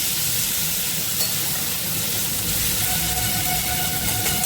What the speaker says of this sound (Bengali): আচ্ছা, চিংড়ি মাছটা আমি হালকা হালকা করে ভেজে নেব।